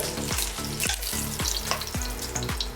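Lamb shanks searing in a hot pan, a dense frying sizzle broken by regular scraping strokes about every half second, close and fairly loud with no talking.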